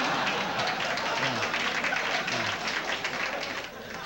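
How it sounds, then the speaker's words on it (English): A television studio audience applauds steadily, a dense wash of clapping that fades slightly at the end. "thank you for bordering on applause"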